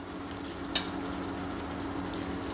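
Butter dropped into paneer navaratna cooking in a pan gives a steady, fairly close sizzle with one brief sharp crackle near the start, continuing evenly with no talking.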